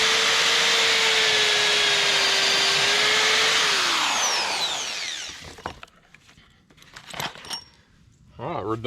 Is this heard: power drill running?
yes